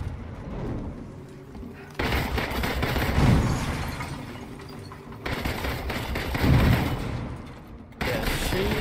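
Sustained gunfire at turrets in Marvel's Avengers, dense rattling bursts of shots with thuds and mechanical clatter, loud and close, pausing briefly between volleys.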